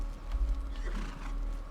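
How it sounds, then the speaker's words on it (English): A horse in the video game Conan Exiles neighs in a short, fairly close whinny with some hoof-like clatter, lasting under two seconds with no talking. "Where's my horse?"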